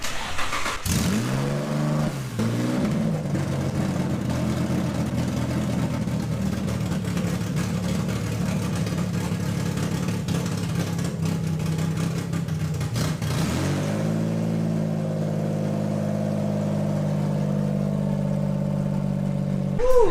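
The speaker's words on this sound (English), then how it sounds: "We're gonna have Jesse go ahead and start the car, and it's gonna be loud as shit." An Infiniti G35 fitted with open Megan Racing headers fires up and runs loud, a rough raspy idle with a blip of revs partway through before settling back into a steady, throaty rumble.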